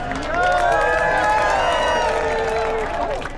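A large, loud crowd at a No Kings rally in Carlsbad, California, cheers, whoops and applauds for about three seconds, with overlapping shouts that rise quickly and then hold steady.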